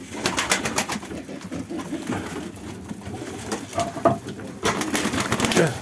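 Pigeons coo and flutter nearby, with rapid bursts of wing flapping and scattered calls against a gusty outdoor background.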